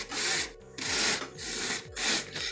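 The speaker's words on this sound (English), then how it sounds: "And now I'm gonna try the coping saw." A coping saw rasps through EVA foam in four rough back-and-forth strokes, close and fairly loud with short pauses between them.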